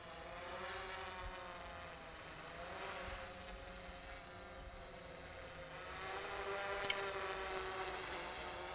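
An XP2 quadcopter with a Naza flight controller flies in light wind, returning home automatically. Its steady, high-pitched motor and propeller whine drones throughout at an even level.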